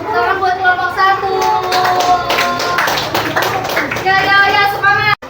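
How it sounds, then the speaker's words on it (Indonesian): A class of schoolchildren in an Islamic religious education lesson claps together for the first group, steady dense hand-clapping running throughout, close and loud, with children's voices chattering underneath. "Oke, tepuk tangan buat kelompok 1."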